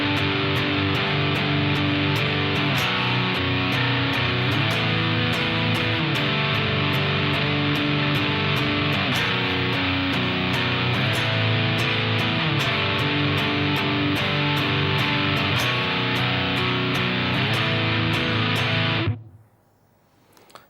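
Distorted electric guitar plays a metal rhythm section at a slow tempo, with steady palm-muted chugs and chord changes continuing loud and unbroken before stopping abruptly near the end.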